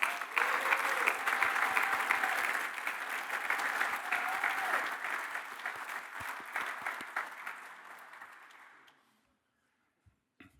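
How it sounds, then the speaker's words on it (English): Sustained applause from a dinner audience honoring three Chancellor's Award recipients at an honorary degree dinner, dense and steady with a few scattered voices, tapering off and fading to near silence in the last seconds. "Please, let's give our three Chancellor's Award recipients a round of applause."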